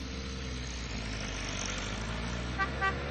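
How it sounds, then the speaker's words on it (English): A car horn honks twice in quick succession outside, near the end of the clip, over a steady low engine-like hum in the video game Starshine Legacy. "A car, and it's right outside."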